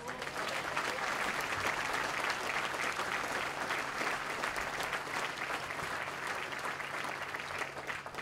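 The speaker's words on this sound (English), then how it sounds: "A particular round of applause, if we could, for the great Screaming Eagle Salute Battery from the 101st Airborne Division" Steady applause from an outdoor crowd at a U.S. Army Materiel Command change of command ceremony, honoring the 101st Airborne Division's Screaming Eagle Salute Battery, even continuous clapping at moderate distance.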